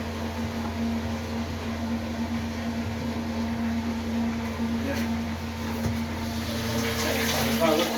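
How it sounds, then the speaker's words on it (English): Water pump switched on by a float flow switch as the water level rises, humming steadily with a constant low drone and faint sloshing, close and continuous throughout. "So you can hear that pump pumping."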